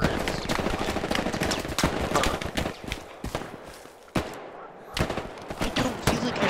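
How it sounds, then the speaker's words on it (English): Gunfire in the World War II shooter game Hell Let Loose, with dense rapid bursts of automatic and rifle shots, some loud and close, others more distant, crackling continuously with brief gaps. "I don't feel like I should be hearing gunshots."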